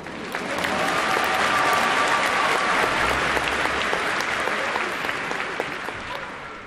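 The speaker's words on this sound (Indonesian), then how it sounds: "Mereka semua bertepuk tangan untuk Pinocchio" A theater audience claps for Pinocchio's stage performance, a steady, full wash of applause that swells in quickly, holds for several seconds, then tapers slightly.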